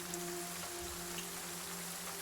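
Heavy rain falls steadily as ambience for a tabletop role-playing session, a soft continuous hiss with a low droning hum underneath and no voices.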